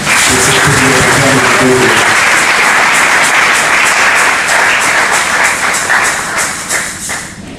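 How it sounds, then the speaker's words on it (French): A church congregation breaks into loud, sustained applause, dense clapping filling the room for several seconds before slowly tapering off, with a brief chant-like vocal tone at the start. "Acclamons la parole du Seigneur"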